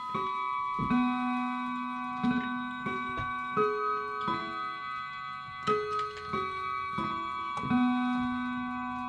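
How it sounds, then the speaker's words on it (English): A Bulova bookshelf clock plays a melodic chime introduction of bright, ringing bell-like tones in a slow, stepped sequence, each note sustaining and overlapping the next. The chime is close and clear against a quiet room. "It did an introduction for you. It's got a beautiful chime, I think."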